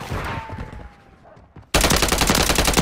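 Loud gunfire in the video game Modern Warfare 3: a burst of shots that fades, a short lull, then a sudden, sustained roar of rapid automatic fire close up.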